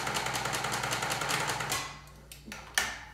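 A sewing machine runs a fast, even stitching burr along a cotton face mask seam, then stops, followed by a few sharp clicks and taps nearby.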